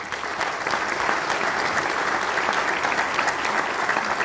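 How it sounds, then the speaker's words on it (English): Audience applause at a public gathering honoring Hall of Fame businesses with elected officials present, a steady sustained clapping from a large crowd lasting throughout, fairly loud and continuous with no talk over it. "let's give them a round of applause"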